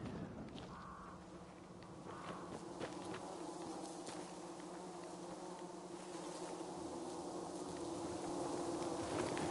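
A swarm of bees buzzes in the Dying Light 2 video game, a steady droning hum at moderate level that swells slightly louder toward the end, heard alone without talk.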